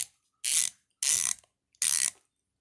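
A Craftsman 72-tooth ratchet clicks in three separate short bursts of rapid, fine ratcheting, close and crisp, with quiet pauses between them and no talking.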